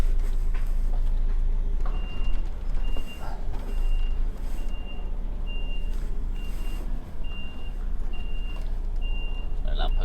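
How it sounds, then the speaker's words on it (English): A Volvo truck reverses into a spot, its backup alarm sounding a steady run of evenly spaced high beeps over a loud, continuous engine rumble. "And I'm going to reverse into that bit there."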